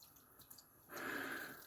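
Slightly warm tap water rinses a coticle sharpening stone. Faint drips come first, then a steady, close splashing stream starts partway through and continues to the end, with no voices.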